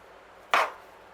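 A single quick knife cut through an apple quarter on a board while coring it, one short crisp chop in an otherwise quiet kitchen.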